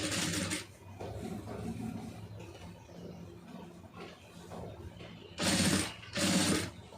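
A sewing machine stitches rolled fabric piping in two loud, steady bursts near the end, after quieter low motor hum and handling noise.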